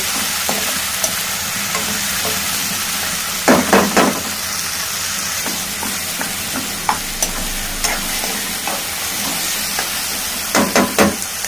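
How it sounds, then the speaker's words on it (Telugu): Curry leaves, onion and tomatoes sizzle and fry in a pan with a steady hiss, broken by a few sharp stirring scrapes and knocks of the spoon. "ఇప్పుడు కరివేపాకు ఆనియన్ వేసేసాము టమాటాలు వేసాము ఇది బాగా మగ్గాలి"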